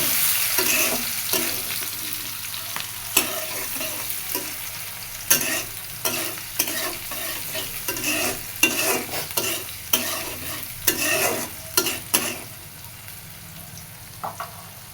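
Chopped onions fry in hot oil with dried chilli, cumin and bay leaf, a constant sizzle broken by repeated sharp scrapes and clatters of stirring at an uneven rhythm, up close with no talking.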